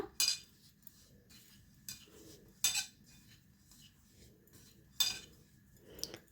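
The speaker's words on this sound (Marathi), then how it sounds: "आता हे आहे तांदळाची पिठी आणि रवा ह्याला आपण नीट मिक्स करूया" A spoon stirs a rice flour and semolina mixture in a bowl, giving four or five sharp, separate clinks against the bowl with quiet gaps between them, close and fairly soft.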